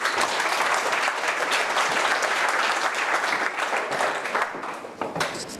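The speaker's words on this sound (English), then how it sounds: "So give him a round of applause." Audience applause at a Lean Startup Melbourne lightning talk, a steady, dense round of clapping that fills the room at a constant level for several seconds and then begins to thin toward the end.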